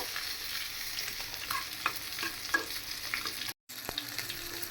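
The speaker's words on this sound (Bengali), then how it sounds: "এখন আমি আবার কয়েকটা শুকনো মরিচ ভাজবো" Dried red chillies fry in oil in a pan that was just used for frying fish. A soft, continuous sizzle is broken by light scrapes and stirring clicks, with a brief silent gap near the end.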